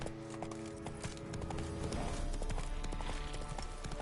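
Horse hooves clip-clop steadily at a trot in The Witcher 3 on PS5, a continuous rhythmic clatter under game music and ambience throughout.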